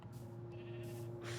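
A Minecraft sheep gives a single drawn-out bleat on a sheep farm in the game, clear and close against a faint steady hum.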